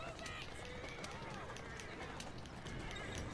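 Hooves clip-clop rapidly as a horse gallops in the Assassin's Creed Syndicate video game, with a whinny and a steady rhythmic beat over dense in-game background sound.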